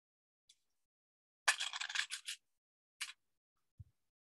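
Jewelry cutters snipping beading wire, a single faint click followed by a burst of crisp scraping snips and a second brief snip, close and alone, then a low thump.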